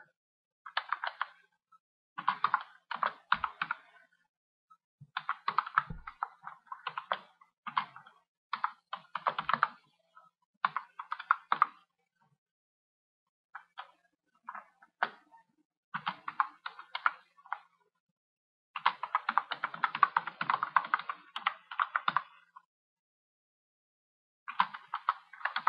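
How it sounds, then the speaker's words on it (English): Computer keyboard typing in Notepad, delivered in quick bursts of key clicks separated by short pauses, close and clear with no talking. "Right now I'll type it out just to show you."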